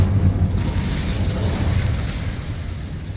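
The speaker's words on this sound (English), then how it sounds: "Incendio." A fire spell cast in the video game Hogwarts Legacy gives a loud, rushing whoosh with a burst of flame, sustained for a few seconds and slowly fading.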